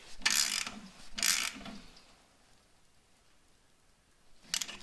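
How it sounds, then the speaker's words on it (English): Three short ratcheting bursts, two close together and one after a pause, as a wrench snugs a threaded drain cap onto a snowblower, quiet and close. "Now we're gonna put our cap back on, thread it on by hand first, and then snug it down."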